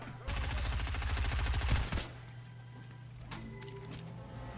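Rapid automatic gunfire from Fortnite bursts loud for nearly two seconds as a dense rattling volley, then cuts off, leaving a steady game hum and a few faint clicks.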